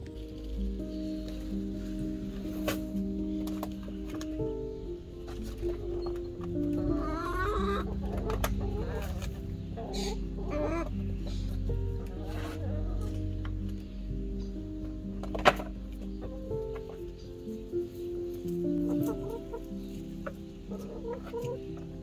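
Backyard chickens cluck and murmur as they peck at finely chopped green onion, with soft, continuous clucking and occasional sharper calls close by.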